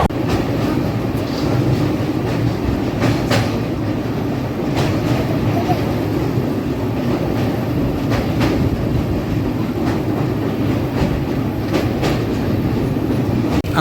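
An LHB passenger train on the Secunderabad to Srikakulam route rumbles steadily over the rails, with loud continuous running noise and intermittent clacking of wheels over rail joints, heard from on board.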